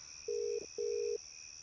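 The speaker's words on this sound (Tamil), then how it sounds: "லைன் போகுது." Two long ringback tones on a telephone call, each lasting about a third of a second with a short gap between, faint over a steady electronic hum.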